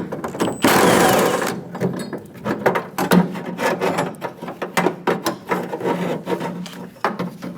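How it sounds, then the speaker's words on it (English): A 10mm socket ratchet removing the two rear exterior door handle nuts on a 2003-2025 Chevrolet Express 2500 van, with rapid close clicking and rasping bursts, a scrape and rustling between them. "Using a 10mm socket, remove the 2 nuts for the handle."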